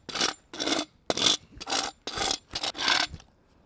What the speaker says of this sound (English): Now we got to sand it off.